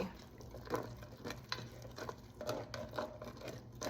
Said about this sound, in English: Scrape the bottom of the pan like this.